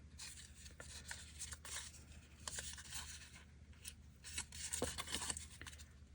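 Soft, close crinkles and scratchy creasing as small paper tabs of a mini 3D book are folded over, irregular bursts of rustling at low volume with no talking.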